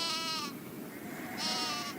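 Goats bleat in two distinct wavering calls, one at the start and one about a second later, close and clear over a low background hum.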